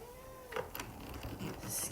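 A single faint cat meow indoors, rising and falling at the start, followed by soft shuffling and household noise.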